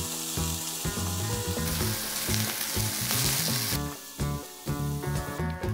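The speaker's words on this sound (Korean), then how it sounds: "자른 버섯은 기름을 두른 팬에 앞뒤로 노릇노릇하게 구워주세요" King oyster mushroom slices sizzle steadily in an oiled pan, with a broadband frying hiss that persists throughout, while music plays prominently over the sizzle.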